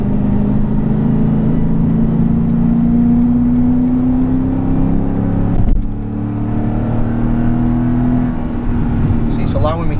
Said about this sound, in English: I'm gonna drop it into manual mode again and gradually build up the RPMs and see what happens